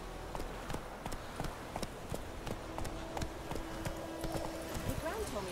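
Roach, a horse in The Witcher 3, trots with a steady, rhythmic clip-clop of hooves on the ground, fairly near and quiet, while game voices talk over it.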